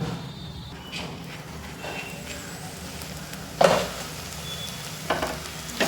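Okra being stirred with turmeric in a pan, a scraping spoon and soft sizzle running steadily, with a sharper clatter near the middle and a few light knocks toward the end, close and fairly quiet.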